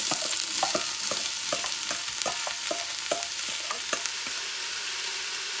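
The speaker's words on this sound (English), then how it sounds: "Now that the olive oil is nice and hot and the pot is ready to saute, I'm just gonna add the vegetables." Steady loud sizzling of vegetables frying in hot olive oil in a pot, with scattered crackles and pops throughout, close up and continuous.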